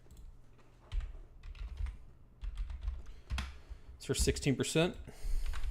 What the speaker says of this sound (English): I love when I type fast, I never spell anything right.